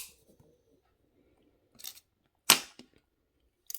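Sharp metallic snips of jewellery wire being cut with cutters while wrapping a pendant, a few isolated clicks, the loudest a crisp close snap followed by a faint ting.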